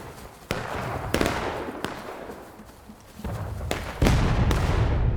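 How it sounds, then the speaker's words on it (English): Sharp pistol shots from an officer's sidearm crack out in a War of Rights Civil War battle, about six spaced reports over a steady rumble of distant gunfire, with no talk. "Sound like some officer's pistol."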